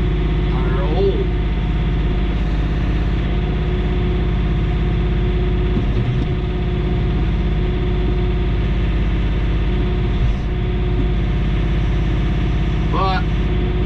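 A John Deere 3039R compact tractor runs steadily and loudly up close, its engine droning without a break while moving dirt with a Dion dump wagon, with someone speaking briefly over it.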